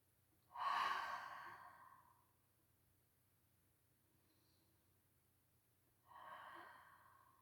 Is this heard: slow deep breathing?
yes